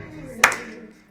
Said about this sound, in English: Be clapping together.